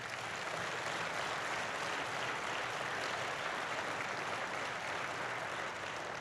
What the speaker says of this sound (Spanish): Dale un aplauso, Dios se lo quiere dar.